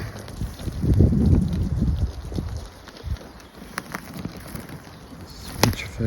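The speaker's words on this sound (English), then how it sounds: "Bit windy up here." Gusty wind buffets the microphone on a hilltop woodland mountain-bike trail in Greno Woods, Sheffield, with a strong rumbling burst early on that eases into lighter rustling and a few faint clicks.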